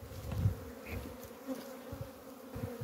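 Wild bees buzz steadily around a large wild hive during a rescue into a brood box, a close, continuous insect drone without talk.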